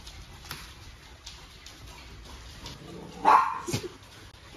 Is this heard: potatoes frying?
no